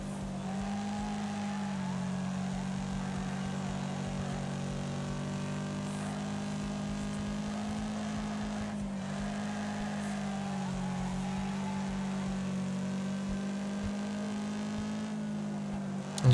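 A racing car's engine in the video game Wreckfest holds a steady, droning roar with slight pitch shifts, loud and continuous with no talk over it.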